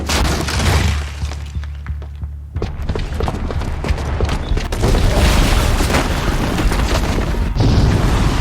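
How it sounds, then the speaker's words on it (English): A booby-trapped bomb going off in Horizon Zero Dawn, a loud sustained rumbling blast with crackling debris and shattering bursts that keep roaring for several seconds. "the booby trap on the bomb downstairs is gonna get set off"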